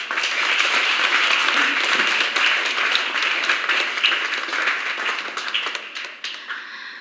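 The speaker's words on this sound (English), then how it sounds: "Let's give them a round of applause." A congregation at a solemn Eucharist celebration for the first profession of Claretian Missionary Sisters applauds in a steady, loud round of clapping that thins and fades toward the end.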